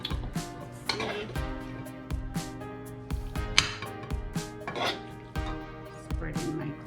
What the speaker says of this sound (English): Spread in my ground beef